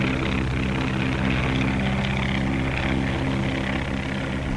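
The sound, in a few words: skywriting airplane engine flying overhead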